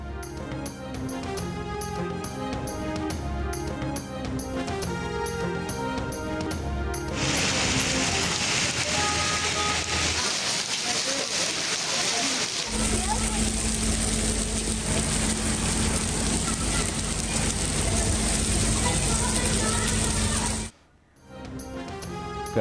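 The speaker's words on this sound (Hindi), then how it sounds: "कराची में ओले पड़ गए" Hail falling in Karachi, a dense steady clatter of pellets striking surfaces that runs continuously and loudly, with a brief dropout near the end.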